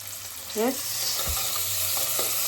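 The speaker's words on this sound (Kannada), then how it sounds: "ಸೊ ಇದು ಫ್ರೈ ಆಗಲಿ" Onions fry in oil in a pan for roadside-style egg rice, giving a steady, close, loud sizzle that runs the whole time with a brief stirring scrape and no talking.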